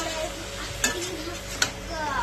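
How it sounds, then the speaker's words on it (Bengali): Chopped tomato stir-fries with chicken pieces in a pan. A close, steady sizzle runs throughout, broken by two sharp scrapes of a spatula against the pan. "টমেটো কুচিটা দিয়ে দিলাম, দিয়ে একসাথে কষিয়ে নেব।"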